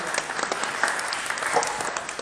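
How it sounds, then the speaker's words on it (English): Steady, fairly close round of applause from an audience at a business networking event in South London, continuous dense clapping with no speech. "We give both the ladies a round of applause"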